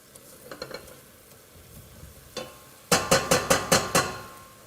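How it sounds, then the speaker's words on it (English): Food frying in a pan while being stirred continuously, a steady sizzle with scattered light scrapes, then a run of six sharp, evenly spaced metallic knocks of the utensil against the pan. "I like this to fry out just for a couple of minutes, stirring continuously"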